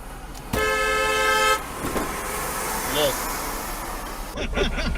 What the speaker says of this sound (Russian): Можешь ему как-то посигналить?